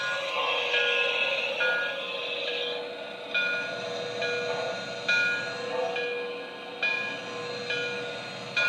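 A Christmas model train layout runs with a steady electronic rumble and held tonal whistle-like notes, while a soft rhythmic clack repeats every couple of seconds, close and alone.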